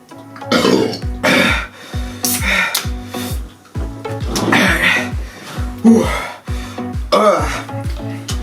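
Repeated deep, croaking burps after drinking cans of Mountain Dew, loud and close, coming one after another with gasps and throaty noises between them.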